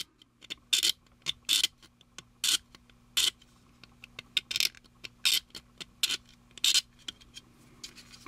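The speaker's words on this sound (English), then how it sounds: "how to scrape down a seam line that's just automatically appeared right here" A hobby knife scrapes down a seam line on a plastic model kit, making a series of short, rhythmic rasping strokes, close and crisp, with quiet pauses and lighter ticks between the main scrapes and no talking.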